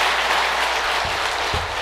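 A temple congregation at a Buddhist monthly dharma service claps in encouragement, a steady, even burst of applause filling the hall, with a couple of low thumps near the end.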